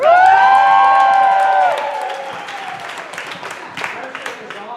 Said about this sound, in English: You can cheer for him.